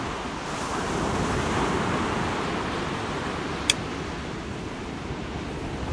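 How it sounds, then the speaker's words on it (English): Ocean waves break on a beach on a cold, very windy morning, giving a steady, loud, close roar of surf and wind rumble across the whole stretch with no talk. "the wave's right behind me"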